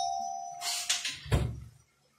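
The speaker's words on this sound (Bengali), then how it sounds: "আজকে অনেক বেল বাজবে" Two-tone doorbell chime ringing once in a home kitchen during cooking, a clear ding-dong at moderate loudness with no talk.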